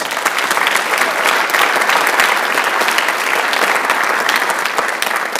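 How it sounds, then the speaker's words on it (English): An audience at a high school senior honors night gives presenters a loud, sustained round of applause, thick and continuous from start to finish. "Let's give them a huge round of applause"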